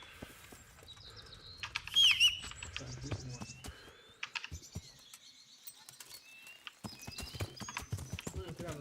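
Hooves clip-clop on a horse ridden through the medieval world of Kingdom Come: Deliverance, with a run of irregular close thuds, a brief burst of louder activity, and birdsong chirping faintly in the background.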